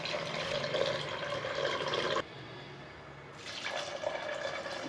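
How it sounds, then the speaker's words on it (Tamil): Water poured into a pan of country chicken salna, a soft continuous splashing pour that pauses briefly in the middle and then resumes, close but quiet. "தேவையான அளவுக்கு தண்ணி சேர்த்துக்கலாம்."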